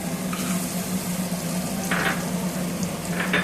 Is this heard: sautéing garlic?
yes